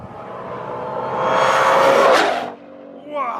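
A 2019 Whipple-supercharged Mustang GT with a 10-speed automatic, a mid-9-second drag car, revs hard with a rising supercharger whine. It peaks and cuts off, then a brief second blip follows, close and loud.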